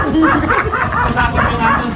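A frightened dog gives a rapid series of high, yelping barks and whimpers, close and loud, with a few voices mixed in underneath.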